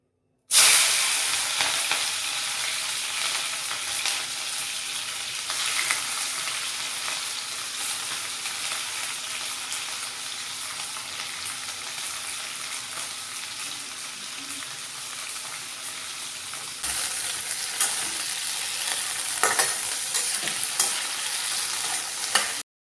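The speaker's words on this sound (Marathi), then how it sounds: "मी शिमला मिरची फ्राय करते" Chopped capsicum sizzles and hisses steadily in a hot pan for tempering, a close, continuous frying sound with occasional stirring scrapes and no voices.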